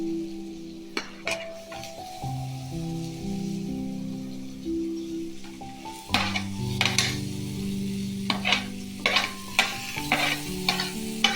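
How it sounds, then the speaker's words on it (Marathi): Sautéing in a pan while stirring, a quiet low sizzle with a faint hum for several seconds, then a busier stretch of repeated sharp spatula scrapes and clinks against the pan, with no talking. "चांगलं परतून घेऊ."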